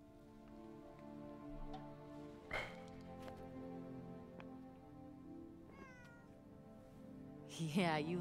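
A cat meows in the Forspoken video game, a couple of short high calls near the end over a steady bed of game music and rain ambience, quiet overall.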